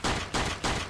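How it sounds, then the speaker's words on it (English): Pistol gunshots in the video game Pistol Cat fire in a fast, even rhythm of four loud, broad cracks, close and punchy with no voices. "Fire the gun 100 times."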